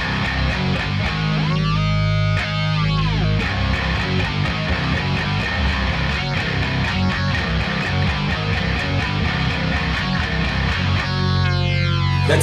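Heavy, distorted electric guitar main riff played through a pitch-shifting pedal into a Kemper amp profiler, loud and dense throughout, with sliding pitch-bent swoops near the start and end and no talking.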